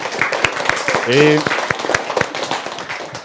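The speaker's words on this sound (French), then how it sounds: "On l'applaudit très très fort" Scattered hand claps ring out in a school classroom to applaud a student's singing, sharp and uneven beneath a person talking.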